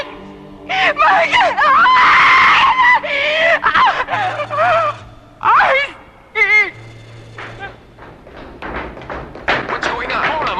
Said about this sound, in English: when we heard you scream, we didn't know what to think.